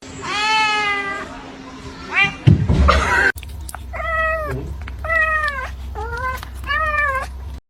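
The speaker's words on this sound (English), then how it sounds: "You meow." A cat meows close by: one long drawn-out cry, then three shorter rising-and-falling meows in a loose rhythm, with a brief rustle and thump between them.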